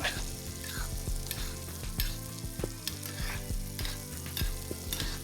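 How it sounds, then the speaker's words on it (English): Black cod fries in a pan while being basted with butter, a steady close sizzle with crackling spits and light metallic scrapes of spoon against pan, no talking. "A little more butter basting for this guy in the back."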